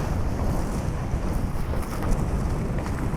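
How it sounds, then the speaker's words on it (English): Steady wind buffets the microphone during an outdoor flying session over water, a continuous low rumble with gusty swells that never lets up, with no talking. "the wind is picking up as well"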